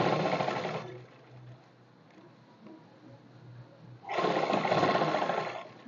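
A sewing machine stitches the pocket of a pair of straight pants, running in two loud, close bursts at the start and end with a quieter pause between.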